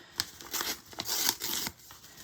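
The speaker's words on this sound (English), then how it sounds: "I'm going to tear. You could tear or cut with scissors." A sheet of paper is torn by hand for trace monoprinting, a series of close, rough ripping bursts in quick succession, fairly loud with no voice.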